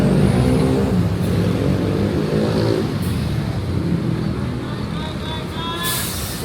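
A Handoyo bus rumbles past at close range, with a heavy low engine drone and tyre roar. Brief hisses and squeals break through, and voices talk over the traffic.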